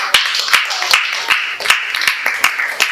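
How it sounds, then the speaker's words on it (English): A handful of people clap in a sparse, regular rhythm, sharp individual claps close by rather than a full crowd. "Just trying to give you a round of applause."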